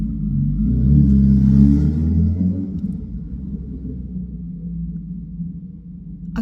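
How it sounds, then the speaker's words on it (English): A motorcycle rumbles past outside while someone is indoors, a deep low engine drone that swells loudly for a couple of seconds, then fades into a fainter rumble as it moves away. "There's a motorcycle outside."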